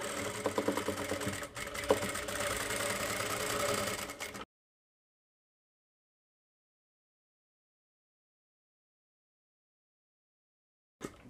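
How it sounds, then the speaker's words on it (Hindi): A sewing machine stitching a fall onto a saree, running steadily for about four seconds with a dense mechanical whir before stopping abruptly into silence, then a brief final burst. "आप यहाँ पर सिलाई चलाइए"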